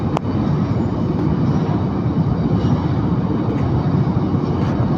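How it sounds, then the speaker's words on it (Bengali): A very long train rolling past in Saudi Arabia, a loud, steady, broadband rumble and rush that holds unbroken for the whole stretch, close by with no pauses and no talk. "অনেক বড়, ওই দেন অনেক বড় যাইতেছে ট্রেন"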